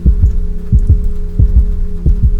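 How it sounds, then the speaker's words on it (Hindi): A loud, deep heartbeat pounding in a steady double-thump rhythm, repeating four times over a low hum. "दिल अब जोर जोर से धड़कने लगा था"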